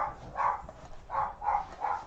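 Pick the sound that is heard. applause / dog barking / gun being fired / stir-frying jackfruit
dog barking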